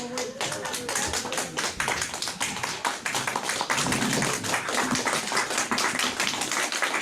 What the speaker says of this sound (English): How about everybody stand up and give a raucous standing ovation, round of applause